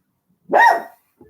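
A single short dog bark, fairly loud and close, stands alone in a quiet setting, followed by a faint trailing sound.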